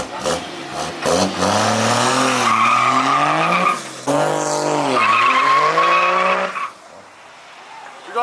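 Trucks at a Carlisle Truck Nationals after-meet do burnouts, with long loud tire squeals and roaring, revving engines in several sustained bursts that fade near the end, close and harsh.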